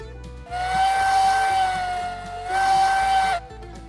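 A steam locomotive whistle in the game Railroads Online blows twice, a loud, steady, piercing tone over hissing steam, with a short break between the two blasts and no talk.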